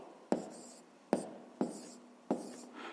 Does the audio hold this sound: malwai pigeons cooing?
no